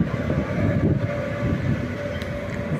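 The Sabari Express passenger train rumbles steadily along the rails in Kerala, a loud, close, continuous roar with a faint tonal whine, and no talking.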